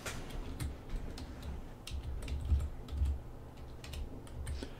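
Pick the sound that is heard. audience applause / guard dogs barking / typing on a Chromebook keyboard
typing on a Chromebook keyboard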